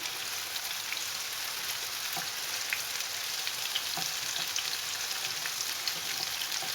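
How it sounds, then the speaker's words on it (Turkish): Julienned green and capia peppers sauté in a hot pan with a continuous close sizzle and soft crackling, plus a few faint stirring clicks, and no talking. "yeşil biber ve kapya biberimiz vardı. Hemen üzerine boşaltıyorum. Hepsini bir soteliyorum."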